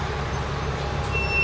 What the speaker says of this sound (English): And buses.